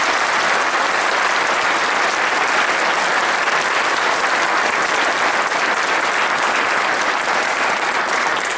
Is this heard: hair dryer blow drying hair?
no